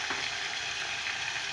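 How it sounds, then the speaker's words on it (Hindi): Garlic and ginger frying in a pan give off a soft, steady, continuous sizzle, faint and close, with no talking over it. "लहसुन अदरक बहुत अच्छी तरह भून चुका है इसमें।"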